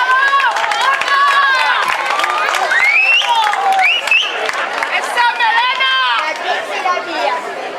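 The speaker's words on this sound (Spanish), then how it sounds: "Un aplauso." Crowd applause for the fallera mayor at the third anniversary celebration of the Falla Neptuno on Avenida Madrid, steady clapping mixed with lively chatter and cheering, under music and nearby voices.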